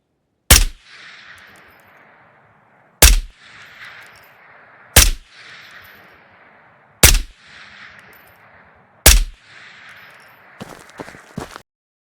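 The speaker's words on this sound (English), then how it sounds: "5 rounds at the target." Five sharp single shots from a suppressed M4 firing 5.56 rounds in Ghost of Tabor, evenly spaced about two seconds apart, each a loud crack with a short decaying tail, followed by a few quieter rattling clicks.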